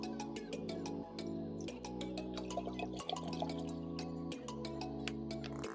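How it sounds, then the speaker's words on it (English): Water poured into a glass mason jar, a steady close trickle whose ringing pitch steps upward in stages as the jar fills, with scattered light drips and clinks. "I'm going to pour that water into my mason jar like so."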